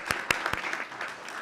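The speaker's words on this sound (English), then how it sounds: "let's give him one final round of applause for an awesome video." Brief applause from an audience at an elementary school district board meeting, a few sharp claps at first, then a soft, steady patter of hands fading out.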